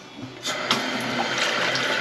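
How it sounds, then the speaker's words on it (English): A kitchen sink tap runs water into the basin, starting with a few splashes and then settling into a loud, steady gush that continues to the end. "just keep and run the sink for five minutes or so"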